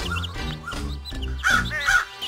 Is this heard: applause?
no